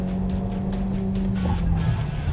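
A car engine holds a steady, loud drone with sweeping harmonic tones as it revs toward 6,000 rpm and shifts gear, continuous and close throughout without pause.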